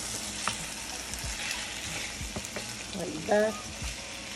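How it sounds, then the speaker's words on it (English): Oxtail meat sizzles and fries in a pan for Jamaican oxtail, a steady hiss with scattered pops and scrapes as the pieces are turned, while a voice speaks briefly. "You just fry on that side and then you just turn it over."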